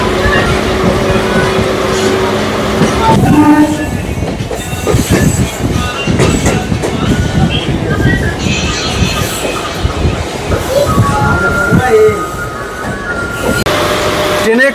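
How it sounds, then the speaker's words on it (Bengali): A local train pulls out of Panskura station's platform 1 bound for Digha, loud and close, with rumbling wheels, metallic squeals and rhythmic clatter over the rails, and a bell-like tone early on. "আমাদের ট্রেন পাঁশকুড়া স্টেশনের 1 নম্বর প্ল্যাটফর্ম থেকে ছেড়ে দিল আমাদের গন্তব্যের উদ্দেশ্যে।"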